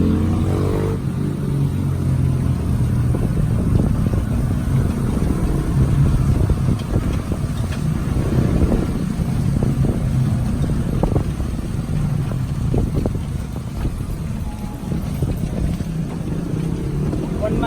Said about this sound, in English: It's like a tuk-tuk in Thailand